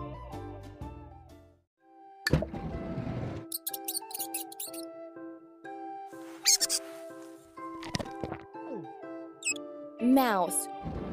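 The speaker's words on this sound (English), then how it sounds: "Where is the mouse?" A mouse squeaks in a kids' animal game, thin, high and short, scattered in bursts over a layered backdrop of music and chimes.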